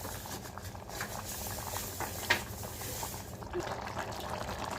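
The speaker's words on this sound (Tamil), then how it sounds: "பாருங்கள், தண்ணி கொதிச்சு வந்துருச்சு." Water boiling in a pot with rice and ghee for vegetable biryani, a steady bubbling patter with soft gurgles, close, and a faint voice briefly under it.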